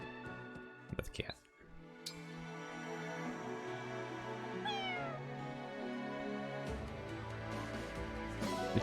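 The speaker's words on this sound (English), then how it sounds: "That's cat." Cat meowing in the video game Awakening: a few meows amid game music and chimes, with someone talking over the sounds throughout.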